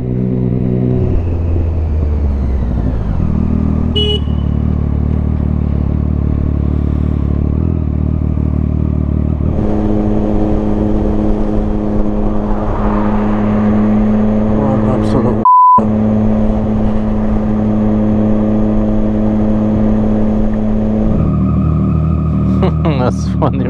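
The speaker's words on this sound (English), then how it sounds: "Cars are coming, bikes are coming" Traffic on a street with cars and motorbikes going by, engines droning and rising in passing swells, a brief beep midway, with people talking over the road noise.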